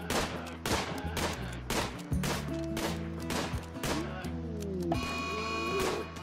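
Rapid gunfire from a hunt in the RimWorld video game: a string of sharp, loud shots in uneven bursts with game music underneath.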